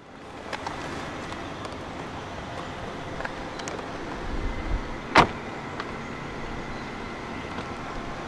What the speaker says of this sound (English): roll down the driver's side window